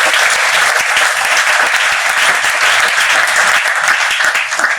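A church congregation claps and applauds together in praise of the Lord Jesus, a loud, dense, continuous wash of many hands that holds steady throughout.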